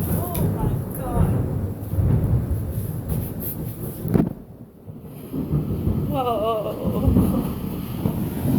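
Deep thunder rumbles through a close thunderstorm, heavy and sustained, mixed with wind buffeting the microphone and bits of talk, a sharp crack midway, then a brief lull before the rumble swells again.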